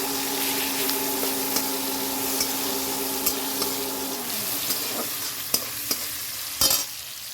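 Onion and green chillies frying in a pan, a continuous close sizzle with a few stirring clinks and scrapes, no talking.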